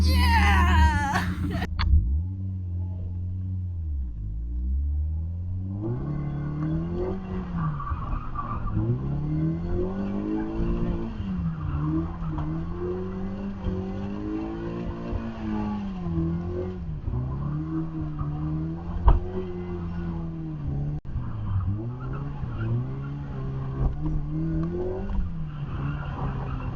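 A car drives and accelerates with a rising and falling engine note through repeated revs and gear changes, loud and continuous, with occasional tire noise and a sharp knock.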